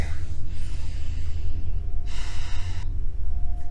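During a yoga practice, a person takes deep breaths: two long, airy breaths sound close and loud over a low steady background rumble, with a brief soft rush near the end.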